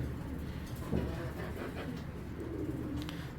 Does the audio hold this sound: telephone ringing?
no